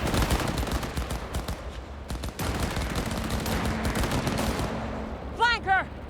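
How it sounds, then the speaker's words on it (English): Sustained gunfire in Cyberpunk 2077, a dense barrage of rapid shots fired nearby, continuing steadily, with voiced shouts and brief chirping effects near the end. "Enemy contact! Opening fire!"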